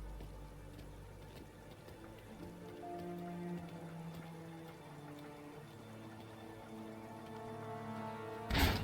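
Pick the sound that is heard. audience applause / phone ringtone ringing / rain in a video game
rain in a video game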